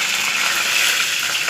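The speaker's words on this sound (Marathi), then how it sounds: "ह्याच्यामध्ये थोडीशी जिरी मोहरी टाकत आहे" Cumin and mustard seeds sizzle steadily in hot oil, a dense, bright, continuous hiss at close range with no voices.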